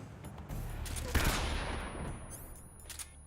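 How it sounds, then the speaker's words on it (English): Stun grenades going off in Metal Gear Solid: a loud blast with a sharp onset, then a sustained roar that fades over a few seconds, with faint game noise around it. "So, stun grenades."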